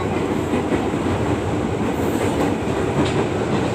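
A commuter train rides toward Jakarta Kota, heard from inside the carriage as a steady loud rumble with rolling wheel noise and faint rail clatter, no voices.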